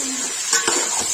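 Onions being stirred in hot oil for dhaba-style chicken masala make a brief close sizzle with a couple of scraping stir strokes and soft utensil contact, and no talk.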